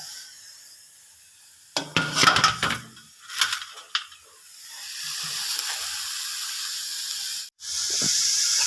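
Chopped ponnamkanni red spinach hits a hot pan: a few scraping, rustling stirs give way to a steady, loud hiss of sizzling and steam that carries on alone, briefly cut and then resuming.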